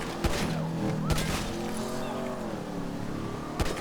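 Car driving and crashing in the video game GTA 5, with an engine note and tire noise running throughout and a few sharp impact thumps near the start and end.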